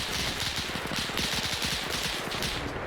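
Incoming gunfire in a WWII-era video game battle between Italian and Russian forces: dense, continuous machine-gun bursts and rattling shots from a distance, unbroken for the whole stretch without a pause.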